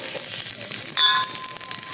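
Fenugreek and cumin seeds, added alongside a bay leaf and dried chili, sizzle and crackle steadily in hot oil in a home kitchen, close and continuous, with a brief metallic clink partway through.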